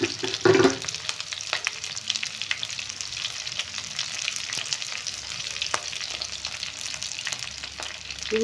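Chopped green chillies and onions sizzling in a hot pan, with a steady crackling fry and a louder burst near the start, followed by light stirring clicks, close and continuous.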